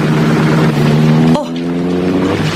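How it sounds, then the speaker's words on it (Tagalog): A car speeds along an open road, a loud close engine drone that drops abruptly midway and then continues at a lower pitch. "Ang bilis ng sasakyan yun ah."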